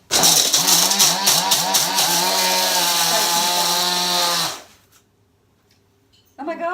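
A kitchen blender grinds vegan parmesan cheese sprinkles with pink salt: a loud, steady motor whir whose pitch wobbles under load for about four and a half seconds, then cuts out to near silence before a voice comes in at the end.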